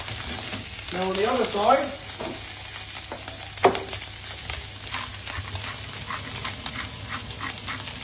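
A ribeye steak sears in oil in a smoking hot pan, giving a steady sizzle throughout, with a brief dog whimper early on, a sharp clatter midway and someone speaking briefly.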